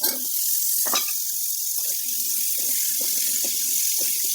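Potato pieces going into a pan of desi chicken curry cooking over a wood-fired stove: a steady, loud wet sizzle and bubbling that holds throughout, with a brief clatter near the start and no voices.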